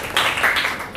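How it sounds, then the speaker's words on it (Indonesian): A classroom of students claps briefly, a short burst of hand claps lasting under a second that fades quickly. "Tepuk tangan dong buat Cinta."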